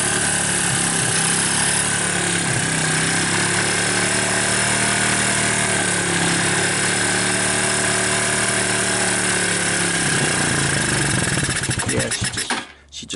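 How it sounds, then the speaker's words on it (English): Suzuki Quadrunner LT160 ATV engine running with a steady loud buzzing drone and a busy mechanical rattle, close by, continuing evenly before cutting out near the end as it runs out of gas. "The starter is making kind of a little bit of clunky sounds, but it does seem to start easy enough."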